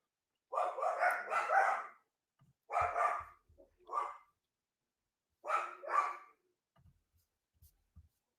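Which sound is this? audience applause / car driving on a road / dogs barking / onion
dogs barking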